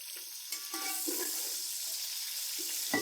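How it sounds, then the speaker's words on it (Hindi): Roughly cut onions frying in a pan with spiced oil for an Afghani pulao, giving a steady close sizzle with a few stirring clinks, no talking. "प्याज को हम हल्का सा फ्राई करेंगे।"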